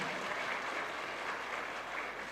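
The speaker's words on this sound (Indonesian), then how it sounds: "silakan tepuk tangan untuk diri Anda" An audience at a Buddhist dhamma talk gives a dense, even round of applause, a continuous soft wash of many hands held at a steady level throughout.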